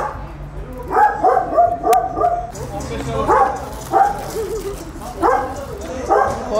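A dog barking repeatedly in short yipping bursts, fairly close and loud, with a few whimpers in between and a low hum underneath.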